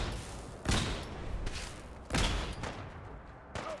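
Gunfire in the Fallout 4 Far Harbor video game, with three separate loud shots spaced over a few seconds against a noisy in-game background.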